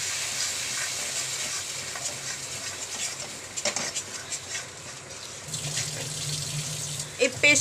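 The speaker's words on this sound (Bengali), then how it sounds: "ওই বাটিটা ধুয়ে সামান্য একটু জল দেয়া হলো" Water runs from a kitchen tap while a bowl is rinsed, a steady hissing flow with some clinks and splashes, over a faint background sizzle of frying masala.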